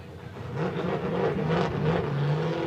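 A supercharged LS-powered Nissan drift car revs at a Formula Drift qualifying event in Orlando, a sustained engine roar shifting in pitch at moderate distance under a steady crowd-and-track wash.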